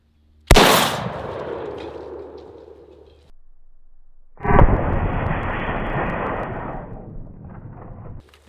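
A single rifle shot fired at a propane tank outdoors, one sharp, loud crack with a decaying rumble, followed a few seconds later by a long, steady hissing rush of escaping gas that fades out.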